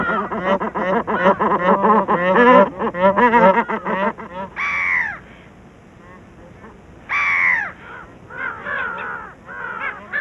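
Brown-headed gulls calling in a Ladakh wetland, a quick run of loud harsh squawks followed by longer spaced cries that carry clearly, with no voices present.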